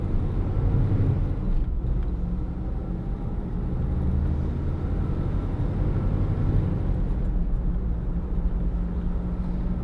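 A manual-steering Jeep Comanche pickup truck drives along steadily, its engine a low continuous rumble with road and wind noise filling the background, no talking.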